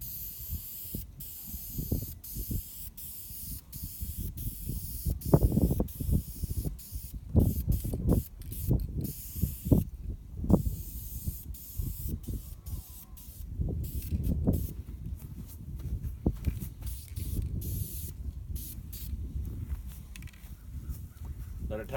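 An aerosol can lays a coat of paint on a junkyard LS engine in short, repeated hissing bursts, close and fairly loud, with a brief pause in the middle and occasional quiet handling noises.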